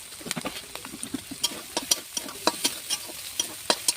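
Vegetable bhaji crackles quietly in a pan while a utensil stirs it, sharp scraping strokes and soft sizzling pops coming in an uneven rhythm, close and low in volume.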